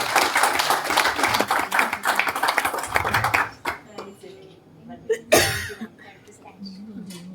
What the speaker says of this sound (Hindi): तालियों से स्वागत करें प्लीज